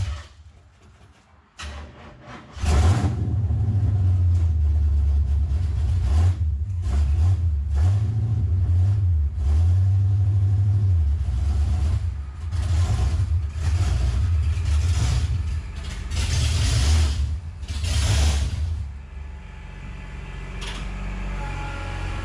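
A 455 Olds G-body Cutlass rumbles as it is driven into a shop, a deep, loud low-pitched engine drone that swells and eases with throttle before cutting out near the end.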